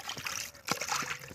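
River water splashes and trickles as hands are washed at the Damodar river bank, with a few soft close sloshes and drips in quick succession.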